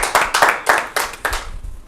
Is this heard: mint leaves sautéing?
no